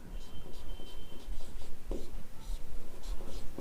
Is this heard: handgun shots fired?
no